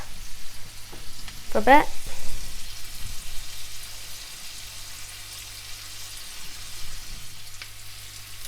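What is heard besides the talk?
onions sauteing and sizzling in a pan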